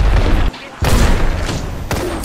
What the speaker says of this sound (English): Heads up, we've got an airstrike